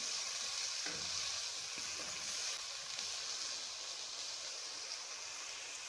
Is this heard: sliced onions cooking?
yes